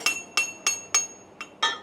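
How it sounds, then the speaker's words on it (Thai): A large-head hammer strikes metal at a weld seam during arc-welding practice, giving six sharp, ringing clinks in a steady rhythm, close and clear with no talk. "แล้วเอาค้อนหัวโตนี่ค้อนหัวโตเคาะ"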